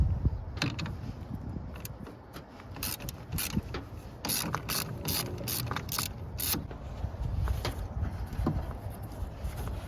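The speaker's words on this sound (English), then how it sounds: "You gotta take these 4 13mm bolts out." A ratchet wrench clicks in quick, rhythmic bursts while loosening 13mm battery bolts on a 2010 Chevrolet Silverado, close by, with small metallic clinks and handling noise between strokes.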